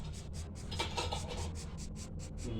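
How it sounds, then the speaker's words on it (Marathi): Rhythmic rasping strokes of a tool cutting through a silver ball, a fast repeated scraping pattern of about a dozen even strokes at close range, with no talk. "आपण कापणार आहे आपला सिल्वर बॉल"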